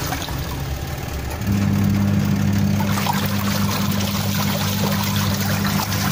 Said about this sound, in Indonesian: ini kinerjanya mesin cuci Konka ya